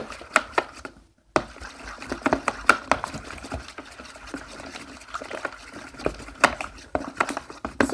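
Slime being stirred with borax solution, giving wet squelching and sloshing sounds with irregular sharp clicks and taps throughout, close and fairly quiet, no voices.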